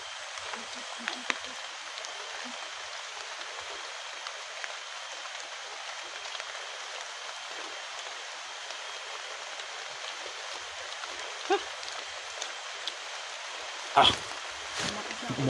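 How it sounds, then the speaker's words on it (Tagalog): Light rain falls steadily in the mountains, a soft continuous hiss of drops with a few louder close taps and knocks near the end, and faint voices speak now and then. "Umuulan na."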